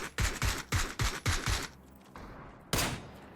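Gunfire in PUBG plays as a rapid string of six loud, sharp shots at an even rhythm, followed by a pause and then one more close shot.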